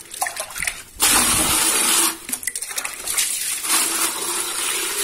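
Water is poured over ketapang leaves to wash them, a splashing gush that starts abruptly, pauses, then resumes in a longer steady pour close by.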